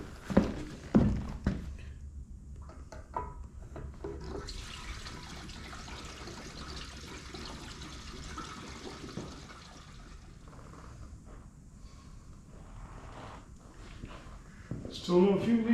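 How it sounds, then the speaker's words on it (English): Gasoline pours into a modified Harley Sportster gas tank as a steady, soft liquid trickle lasting several seconds, framed by handling knocks at the start and end. "Put a little more gas in."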